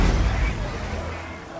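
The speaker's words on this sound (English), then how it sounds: "It was a one-time, extremely long, fiery explosion." A long, fiery flamethrower-style explosion roars loud and close, a dense sustained rumble that slowly thins over about a second and a half.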